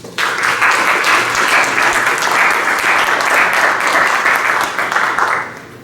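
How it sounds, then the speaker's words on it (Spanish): Lecture audience at a UNAM architecture faculty event gives a strong, sustained round of applause for the incoming speaker, many hands clapping densely and loudly for several seconds before tapering off. "Por favor, dame un fuerte aplauso"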